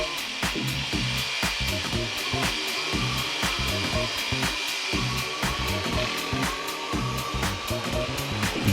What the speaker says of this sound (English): With the piece clamped in my workbench, I proceeded to cut it with my jigsaw.